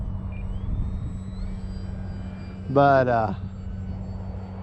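Engine drone of a small fixed-wing model plane fitted with Tundra tires, performing a knife-edge pass; a steady low hum runs throughout, with a brief spoken word partway through.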